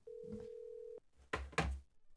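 A steady telephone tone sounds for about a second, then cuts off, followed by a couple of louder clicks and thumps as the phone call is handled.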